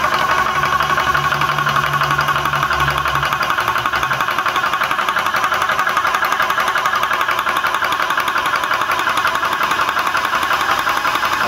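A 12V/220V PCP high-pressure compressor motor runs steadily and loudly with a dense, even drone, a cooling fan whirring along and a low hum dropping out after the first few seconds.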